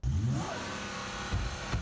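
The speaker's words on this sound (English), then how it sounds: "The engine revs." A police cruiser's engine revs hard in a short burst in Vancouver as a man struggling in the front seat tries to take the car, loud and close with a rough mid-range roar.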